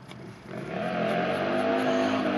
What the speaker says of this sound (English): now somebody with a loud motorbike out down on the road